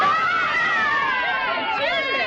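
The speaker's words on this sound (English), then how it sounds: "Do you hear the cheering?" Crowd cheering in a 1939 film, a sustained, loud wash of many high excited voices shouting together, rising and wavering toward the end.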